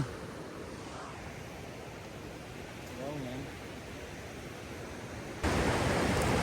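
Broad, steady rush of a mountain stream where two streams join near Shankar waterfall, Jumla, western Nepal, growing louder near the end, with a brief voice partly masked underneath.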